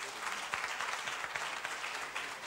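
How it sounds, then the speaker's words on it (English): An audience at a project presentation applauds steadily, a dense wash of many hands clapping at even volume throughout, with a faint voice underneath. "let's clap for them"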